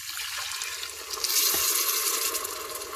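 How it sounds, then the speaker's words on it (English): Chicken stock pours steadily into a pot of rice, a continuous watery rush that swells a little louder midway before settling back. "The next thing you do is to put in the chicken stock."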